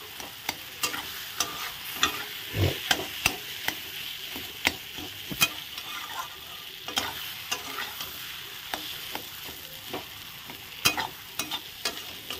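Continuous soft sizzling of spiced potato filling frying in a pan, punctuated by repeated scraping stirs at an uneven rhythm, close and without talk.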